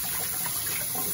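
A kitchen tap runs full and steady, rinsing chicken feet for Jamaican pumpkin soup, giving a close, continuous broadband water rush with no talk.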